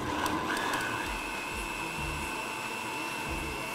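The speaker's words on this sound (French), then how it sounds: "Alors là, je vais mixer." A blender whirs steadily, mixing corn kernels with milk for a Brazilian corn pudding, a loud continuous motor drone with no pauses and no talking.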